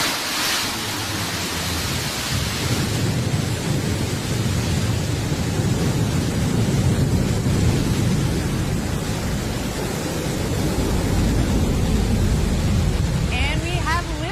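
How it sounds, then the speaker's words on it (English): Blue Origin New Shepard rocket lifting off from launch site 1 in West Texas, a steady, dense broadband roar that holds loud and continuous throughout, with a faint voice underneath. "Beautiful liftoff from our launch site 1 in West Texas."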